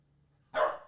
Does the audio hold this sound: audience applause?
no